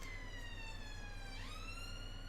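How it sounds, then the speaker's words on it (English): A police siren wails steadily at low level, its rising and falling tone sweeping upward partway through over a faint low hum, with no talking. "Sirens in the chat?"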